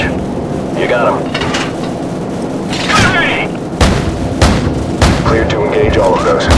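Aircraft gunfire in the Call of Duty 4 video game, with heavy booming cannon blasts and bursts repeating through the scene, loud and close, under radio chatter between crew members.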